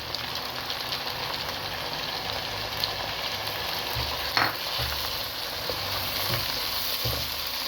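Tomatoes fry in ghee in a karahi, a dense steady sizzle with occasional soft thumps and stirs beneath it, close and continuous.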